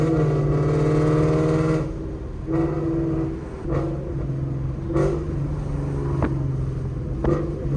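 A loud Ford Mustang GT 5.0 drives along with a steady, close engine drone, its note dipping and rising between gear changes with a few brief revs, on a warm day with the tires in need of replacing.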